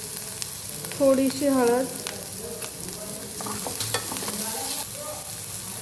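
Onion sautés in a hot pan for a makhana raita, with a little turmeric added, and is stirred now and then. A constant sizzle carries several scraping stirs, with a short bit of talk near the start.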